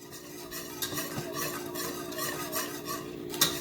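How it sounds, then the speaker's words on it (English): Sweetened condensed milk being stirred continuously in a pot over medium-high heat, a steady scraping and swishing of the utensil against the pan with faint sizzling and a sharp clink near the end. "I'm gonna keep stirring it"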